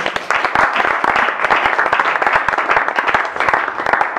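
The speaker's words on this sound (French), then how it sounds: "Est-ce qu'on peut bien acclamer les Seigneurs s'il vous plaît?" An audience claps steadily in continuous applause for the Seigneurs, dense overlapping hand claps filling the whole stretch at a fairly loud, even level.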